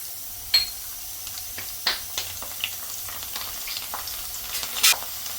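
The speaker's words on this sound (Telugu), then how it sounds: "ఇప్పుడైతే వెల్లుల్లిపాయ రబ్బలు కూడా వేసేసుకుందాం" Peeled garlic cloves fry in oil for a village-style lemon pickle, a quiet, steady sizzle with several sharp spattering pops and light stirring knocks.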